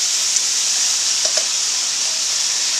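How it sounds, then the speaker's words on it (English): A beef and tomato mixture for baked ziti simmers in a pan, giving off a continuous close hiss and sizzle with a few faint pops and nothing else over it. "And we're just going to let that simmer"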